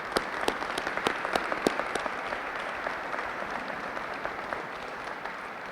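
An audience at a Veterans Day ceremony in Cleveland claps for the veterans, steady applause of many hands at moderate distance, with a few sharper individual claps standing out.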